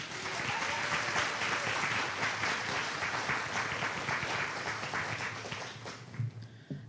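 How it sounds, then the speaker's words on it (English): An audience at a university multicultural center groundbreaking ceremony claps in a full, dense burst of applause that holds steady and then thins out. A few voices rise within it. "Another round of applause for them."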